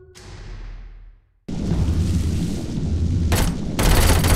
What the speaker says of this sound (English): Fire. Particularly flaming bullets.